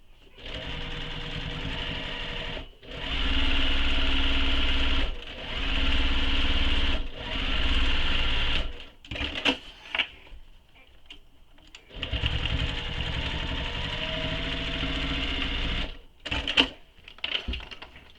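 A sewing machine backstitches through a tote bag, running in several loud steady bursts separated by short pauses, with brief clicks and handling noises between runs and a final longer stretch of stitching.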